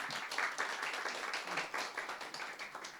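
Applause from a church congregation at a missionary sending service, steady fairly quiet clapping from a small crowd throughout, with scattered individual claps standing out.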